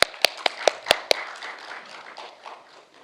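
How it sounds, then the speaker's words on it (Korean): A few sharp, separate hand claps ring out near a conference hall stage as an audience welcomes a speaker, then fade into a low murmur of room noise. "여러분, 윤영호 원장님을 박수로 환영해 주십시오."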